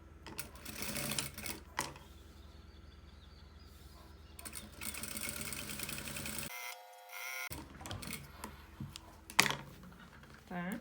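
A domestic sewing machine stitches two fabric strips together in short rapid bursts of mechanical chatter, with pauses between runs and a near, moderately loud motor whir.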